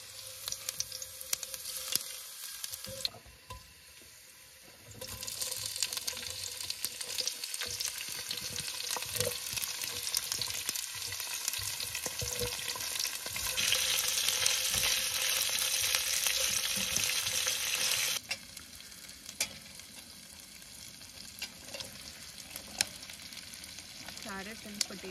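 Steady frying sizzle of carrot and potato in a pan at a campsite, continuous crackling hiss with occasional stirring clatter, close by and alone.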